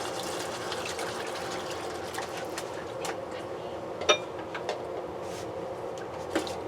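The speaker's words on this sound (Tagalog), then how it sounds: "Ngayon maglalagay na tayo ng tubig dahil palalambutin na natin ito eh." Water pours steadily into a pot of beef mechado during cooking, a continuous broadband gush running the whole time with a few small clinks and splashes over it.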